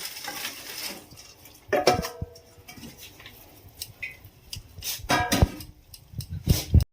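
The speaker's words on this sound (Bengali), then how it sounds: "আমি এবারে চিনির রস থেকে বোঁদেগুলো তুলে নিচ্ছি" Sugar-syrup-soaked boondi lifted out of a pan for laddu, with scattered scrapes, clinks of a spoon against metal and soft wet stirring sounds, fairly quiet with irregular bursts.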